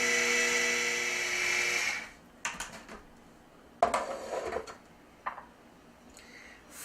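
An electric mixer whirs steadily as white sugar is blended into a soft mixture for a Korean sweet rice cake, then stops, leaving a few clinks and taps from bowl and utensils.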